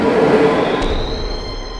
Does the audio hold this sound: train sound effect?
yes